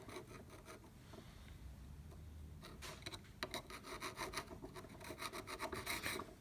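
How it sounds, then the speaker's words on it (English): A screwdriver scrapes brass debris off a Pony vise, giving a quiet, close rasping scratch that grows into choppy, uneven strokes over the last few seconds. "If I hit it with a screwdriver, you should be able to see it piling up."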